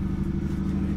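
A BMW car engine runs loud and close, a brief steady throaty hum with strong low tones and no voices.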